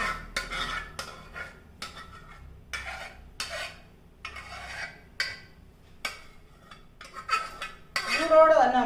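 Cooked sago being stirred into jackfruit payasam in a pot, a series of scraping, clinking strokes of a metal spoon against the vessel, close and irregular, with a brief louder clatter at the end.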